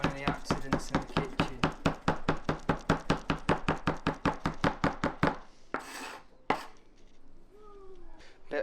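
An onion being chopped with a knife on a board, a long run of rapid, evenly spaced sharp chops close by, then a pause with a few scattered knocks and a brief rustle.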